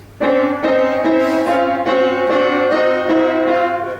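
A series of sustained three-note chords, every possible trichord, played one after another on a keyboard, each struck cleanly and held briefly before the next, with no talking.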